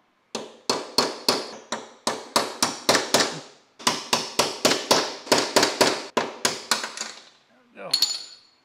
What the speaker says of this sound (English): Let me pop this bearing out.